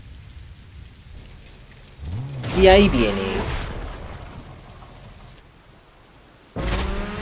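Steady rain patters throughout in the video game Need for Speed: Most Wanted, with a louder rumbling swell partway through and a brief voice speaking over it.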